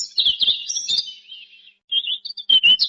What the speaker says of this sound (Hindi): बाहर पक्षियों की चहचहाहट थी